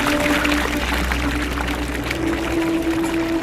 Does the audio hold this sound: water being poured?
yes